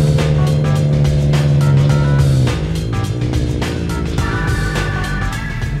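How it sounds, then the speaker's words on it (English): Aussie racing car engine running through its first laps, a steady loud drone that shifts pitch partway as the car changes speed, heard alone without talk. "First laps in the Aussie racing car."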